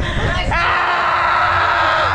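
A group of people shouting together in a loud, sustained burst of screams and yells, close and overlapping throughout.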